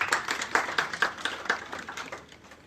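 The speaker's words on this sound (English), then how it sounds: "Please put your hands together." A small crowd at an airport welcome claps in uneven bursts, the individual hand claps near and distinct, gradually tapering off toward the end.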